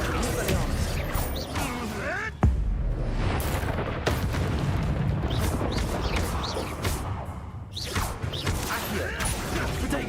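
Hogwarts Legacy spell combat, with the Expelliarmus disarming spell cast among other spells: whooshing bursts and a sharp impact boom amid battle effects, layered under a player repeatedly calling out spell names.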